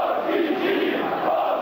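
Football hooligans chant in the stands of a packed stadium at a Sparta Prague versus Baník Ostrava match, a dense, steady roar of many voices sustained throughout.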